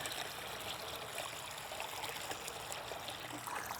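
A rose bush is set back into a bucket of water, giving a dense, continuous rush of sloshing and trickling water, close and steady with no talk.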